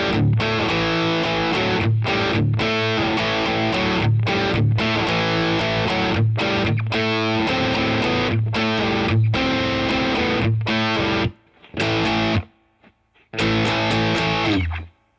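Distorted electric guitar plays the intro of a song, with rhythmic down-up strums broken by sharp palm-muted stops, loud and continuous with brief silent gaps near the end.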